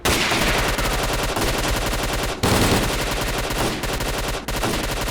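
Automatic gunfire in the S.T.A.L.K.E.R. Clear Sky Faction Wars mod, loud sustained bursts of rapid shots with brief breaks between volleys, dense and close with no talk.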